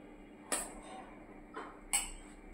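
Cabbage curry with peas and potato being served onto a plate: three short clinks of a spoon against the plate, the second softer, set apart over a quiet room with no talking.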